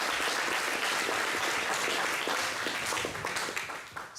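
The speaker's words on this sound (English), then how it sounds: "Let's give Giovanni a round of applause," A conference audience applauds at the OpenSIPS Summit in Valencia, a dense steady wash of many hands clapping that holds for several seconds and thins slightly toward the end.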